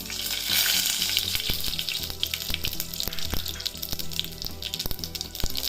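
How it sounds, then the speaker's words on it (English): Fenugreek and mustard seeds splutter and fry in hot oil, a steady sizzle broken by sharp popping crackles at an irregular rhythm, close and fairly loud with no talking. "Mustard is spluttering here. Let it fry."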